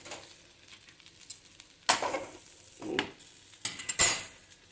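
Horse gram rasam ingredients are stirred in a hot pan, giving a few sharp scraping strokes of a spoon against metal over a soft sizzle, spaced irregularly and otherwise quiet.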